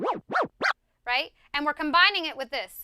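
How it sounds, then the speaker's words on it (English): Forward-back tear scratches on a DJ turntable, three fast swooping strokes played double time, followed by someone speaking close to the mic. "So 2 forward back tears in a row, double time"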